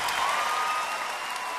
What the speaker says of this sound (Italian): E un piccolo applauso